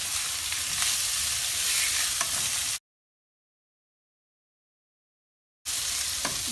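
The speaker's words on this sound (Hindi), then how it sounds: "नमक डाल देंगे, 2 मिनट फ्राई कर लेंगे इसको।" Potato and spinach frying with salt in a pan give a steady, close, dense sizzle with faint stirring scrapes, broken by a stretch of complete silence before the sizzle returns.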